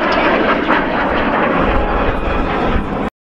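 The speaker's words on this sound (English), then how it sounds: "Still impressive, this jet." A jet aircraft passes low over an air show with a loud, continuous roaring rumble that holds steady for about three seconds and then cuts off abruptly.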